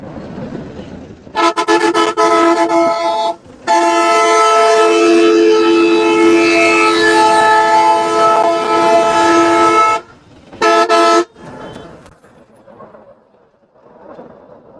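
A loud train horn blasts in long sustained tones, broken by short pauses, then a final short toot before fading to quieter rumble.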